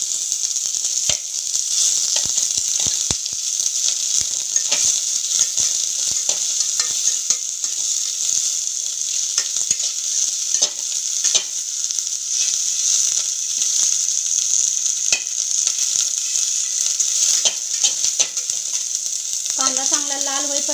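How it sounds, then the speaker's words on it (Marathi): One large onion fries in a pan until browned, giving a loud, steady, close sizzle with frequent sharp crackles and spatula clicks, and a short tonal sound near the end. "कांदा चांगला लाल होईपर्यंत भाजायचे"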